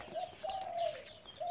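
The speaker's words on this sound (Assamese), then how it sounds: "পাৰবা লাগব" A pigeon cooing close by outdoors, a few soft rolling coos in a loose rhythm over faint background noise.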